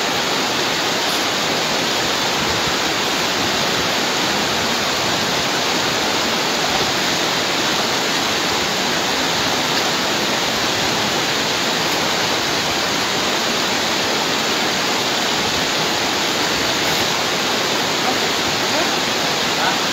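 A strong river current rushes with a dense, loud, unbroken roar of flowing water, filling the whole stretch evenly from close by. There is no clear speech over it.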